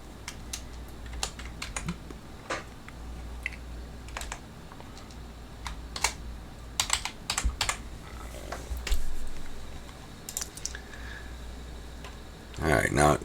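Close keystrokes on a computer keyboard type out a short folder name, with scattered clicks and brief taps in a quiet room and a louder burst of keys near the end.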